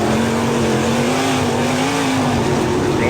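A race car on an oval track at roughly half throttle, its engine droning steadily and loud with a wavering pitch as it runs down toward the first turn.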